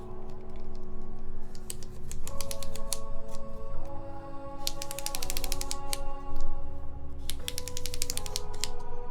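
Mechanical keyboard switches are clicked in a key tester during a Pixelspace Capsule keyboard build: repeated bursts of crisp close clicking in quick rattling clusters over a steady tonal background.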